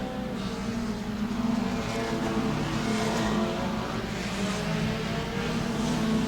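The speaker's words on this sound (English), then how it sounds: "Ten cars remaining out on the track." Mod Mini race cars run a 30-lap event at Auburndale, their engines droning loud and steady as a continuous close pack on the track, with no voices over the sound.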